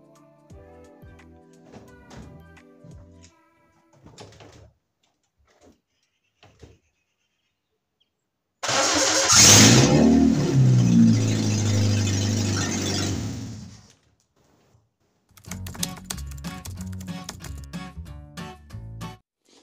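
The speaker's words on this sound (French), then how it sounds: "le démarreur fait un bruit de malade, ça couine énormément" The starter motor on a Renault 21 GTL squeals loudly for several seconds as the engine cranks, a harsh, close, sustained burst. Quieter rattles and knocks come before and after it.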